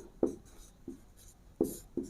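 Chalk or marker strokes on a classroom board during a chemistry lesson, four short scratchy bursts spaced irregularly, close and clear with no talk.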